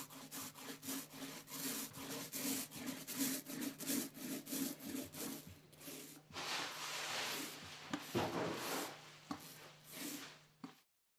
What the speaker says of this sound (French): Pour la surface, nous utilisons un petit rouleau.